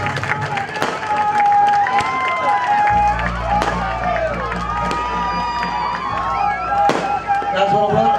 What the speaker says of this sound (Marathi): जरा जोरात टाळ्या होऊ देत